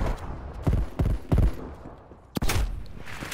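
Gunfire in Call of Duty Black Ops Cold War: three sharp shots in quick succession, a pause, then one more loud report. All sound close and punchy over faint game ambience.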